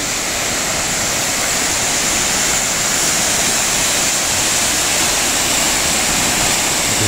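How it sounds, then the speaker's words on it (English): Twin Falls cascade in Springbrook National Park, Australia, roars as a constant, loud broadband rush of falling water, unbroken and close, with no voices. "You can hear all the noise from the cascade."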